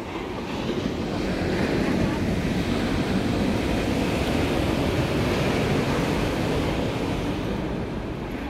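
Sea waves wash steadily onto the shore of a beach beside a seaside shrine in Helen Nagar, Inayam, forming a continuous loud surf roar mixed with wind.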